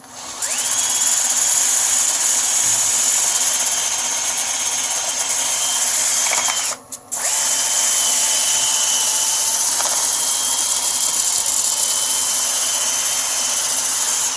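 A wood lathe spins an ash natural edge bowl during sanding. The motor gives a loud, steady whine with a rising pitch, cuts out briefly about midway, then resumes and settles at a lower speed.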